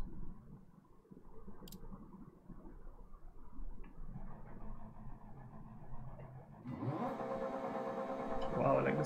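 Rally car engine in Dirt Rally 2.0, played on a PC with a steering wheel: a low engine rumble idles and builds, then sharply revs and accelerates near the end, moderately loud.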